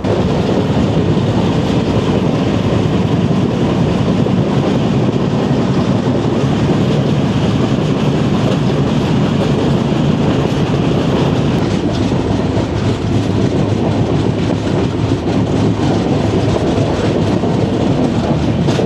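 A train pulling into a station early in the morning, a loud, continuous rumble of rolling wagons with a rhythmic clickety-clack of wheels on rail joints throughout, close by and with no voices.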